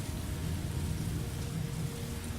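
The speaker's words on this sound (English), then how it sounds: "And it seems to be raining more." Steady rain falls in the video game Heavy Rain on PS4, a dense, even hiss with a low rumbling undertone, continuous and fairly quiet throughout with no voices.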